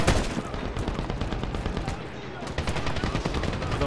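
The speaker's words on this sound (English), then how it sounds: "Big old huge belt-fed gun" Belt-fed machine gun firing in the video game Medal of Honor (2010), a loud, steady stream of rapid automatic bursts that runs throughout with faint voice mixed in.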